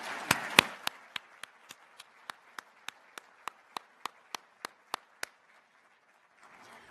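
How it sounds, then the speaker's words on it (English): Applause for county employees at a county address, heard as a quiet run of single, evenly spaced claps that keeps a steady rhythm for several seconds before stopping. "please join me in a round of applause for our county employees"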